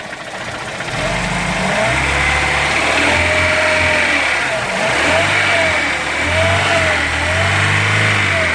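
A car engine revs up and down several times, rising and falling in pitch at close range over a steady running idle.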